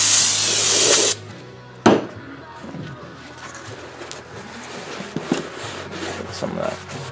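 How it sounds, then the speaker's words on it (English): Brake cleaner hisses in one loud, steady spray burst of about a second onto rear brake parts of a 2007 Scion tC, followed by quieter clatter and handling noises. "Usually some Castle brake clean, get all the oil off."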